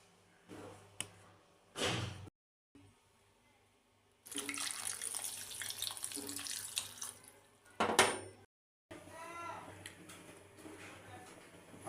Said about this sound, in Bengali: ভালো করে ধুয়ে জলটা ঝরিয়ে নিন